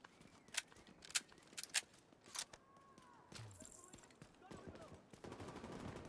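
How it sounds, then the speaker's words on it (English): Sniper rifle shots in The Division 2 game ring out as several sharp, separate cracks spaced about half a second apart, fairly faint, followed by softer game effects and a low rumble. "How loud is this sniper gonna be?"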